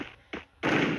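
A grenade blast in the Free Fire video game is heard as a sharp thump, a second pop, then a loud, broad crackling burst that fills the end.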